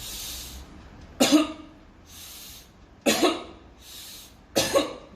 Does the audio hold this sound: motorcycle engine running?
no